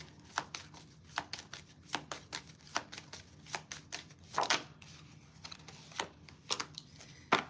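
Tarot cards being shuffled by hand for a zodiac reading: a quiet, close run of crisp riffling flicks and snaps in quick irregular bursts, with no speech.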